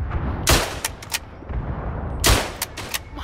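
A player's gun firing in a shooter video game, with two loud, sharp bursts of shots separated by a pause and lighter single cracks in between, close and punchy.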